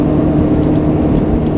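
A 1990 Mercedes W124 fitted with new coilovers runs steadily at close range, giving a continuous low engine drone with no voices.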